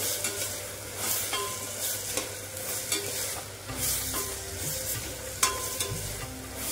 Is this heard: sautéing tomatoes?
yes